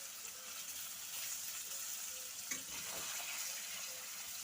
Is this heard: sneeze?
no